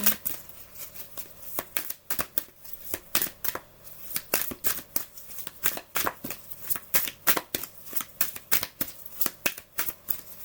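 A deck of playing cards shuffled repeatedly at close range, with quick riffling bursts and sharp flicks in an uneven rhythm, fairly quiet and with no voices.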